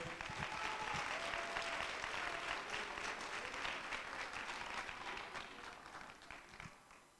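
An audience applauds at a school singing festival, a dense, steady wash of clapping from many hands that fades gradually toward the end.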